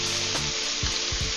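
Thinly sliced steak sizzles steadily in a hot pan for a Philly cheesesteak on sourdough, a loud continuous fry with a few brief low bumps of stirring, no voices.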